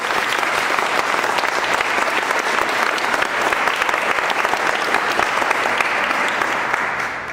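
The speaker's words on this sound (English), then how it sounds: "Let's just give another round of applause for the people who brought the film here." International Women's Day audience gives sustained, loud applause for the people who brought the film, dense even clapping lasting several seconds before tapering slightly at the end.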